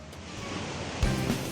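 Ocean surf on the coast of Bangka Belitung, a continuous broadband wash of waves with a heavier surge breaking partway through, steady and fairly loud.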